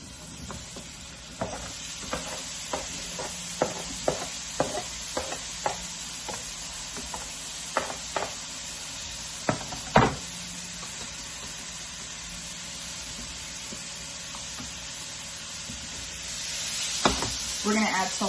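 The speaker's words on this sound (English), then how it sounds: "we're just gonna let this saute for a little while" Chopped vegetables for a pasta dish sauté in a pan with a steady, soft sizzle, broken by a run of sharp clicks and taps from stirring against the pan, with a brief louder clatter near the end.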